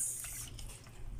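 Tap water running while crabs are washed for steaming, a soft, steady splashing wash with a hiss, heard alone and fairly quiet throughout.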